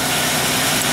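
A 2000 Pontiac Bonneville engine runs steadily, loud and close, a continuous idling drone with no talk over it; the car has a power steering problem and a misfire on one cylinder.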